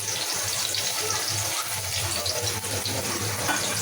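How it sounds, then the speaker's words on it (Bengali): Chopped onion drops into hot oil and sizzles with a loud, steady, broadband hiss that stays close throughout. "তেলটা গরম হয়ে গেছে, দিয়ে দিলাম পেঁয়াজ কুচি"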